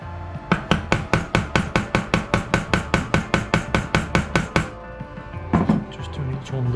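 Steady rapid hammer blows on a hard surface during a Vespa P200E scooter restoration, about twenty evenly spaced close strikes, then a pause and a few more taps.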